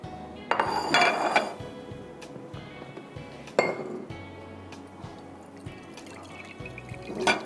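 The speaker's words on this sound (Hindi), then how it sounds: "थोड़ा सा पानी डालेंगे हम" Water splashes into a cooking pot of biryani with onions and marinated chicken, alongside clinks and knocks of utensils against the metal pot, close and clear.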